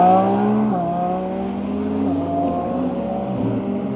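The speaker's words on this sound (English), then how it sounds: "Thing is absolutely hauling the mail right down this runway." A Tesla Plaid with the track package accelerates hard down a runway, producing a loud, close, high-pitched electric whine that climbs and steps as its speed builds.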